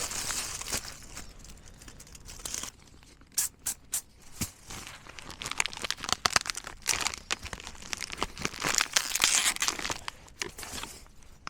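Loud, irregular crinkling and crackling of tin foil being handled, with sharp bursts and busier stretches continuing throughout, close up with no voices.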